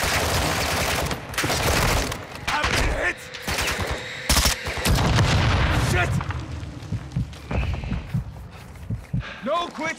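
Rapid bursts of gunfire and explosions in the video game Call of Duty DMZ, loud and dense with repeated volleys and booms, while players shout over the fighting.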